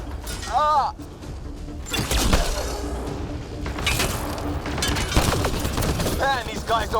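Rapid bursts of gunfire and sharp cracks fill a Mass Effect Andromeda battle, dense and continuous, with shouted voices and alien chatter mixed in.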